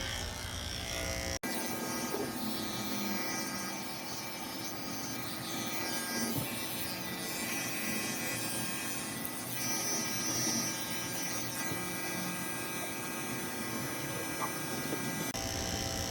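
Electric clippers fitted with a 10 blade hum steadily and close up while shaving a Shih Tzu, the motor tone running nearly unbroken with a sharp click near the start.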